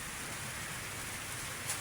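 Steady rain falls in a broad, even hiss at low level, continuous and without pauses, with a small brief bump near the end and no voices over it.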